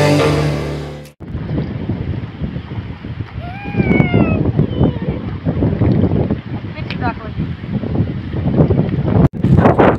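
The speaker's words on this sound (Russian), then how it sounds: "На улице плюс 29 и такой вот ветер." Strong wind blows outdoors on a hot 29-degree day, a continuous close rumble buffeting the microphone for most of the clip, with faint voices and brief tonal calls underneath.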